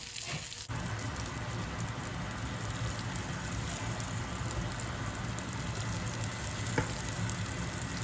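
Potatoes fry in a pan with a steady, soft sizzling hiss like light rain, constant and close, starting after a brief quieter moment, with a single faint tick partway through.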